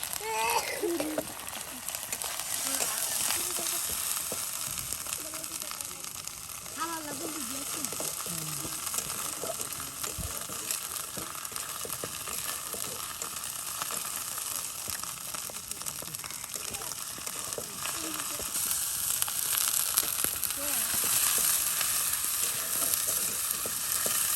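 Chopped onions and ground spice paste frying together in a pan for a pangas fish curry, a continuous close sizzle with occasional stirring scrapes, and a voice talking faintly over it at times.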